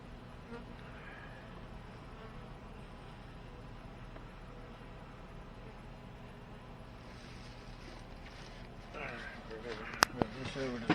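Honey bees hum in a steady buzzing drone while a beekeeper opens a hive using smoke, with a person talking over it and a few clicks near the end.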